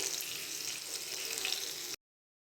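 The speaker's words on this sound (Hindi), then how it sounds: "अब यहाँ पर हम इनकी साइड चेंज करके इन्हें दूसरी साइड से भी फ्राई कर लेंगे।" Pieces of a quick breakfast dish fry in a pan after being flipped, a dense, steady hissing sizzle heard up close that runs evenly for about two seconds and then cuts off abruptly.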